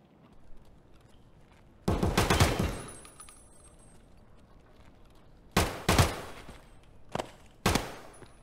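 Gunfire in Escape from Tarkov sounds in loud, sharp bursts: a long rapid volley, then several shorter clusters of shots, close and punchy over quiet game ambience.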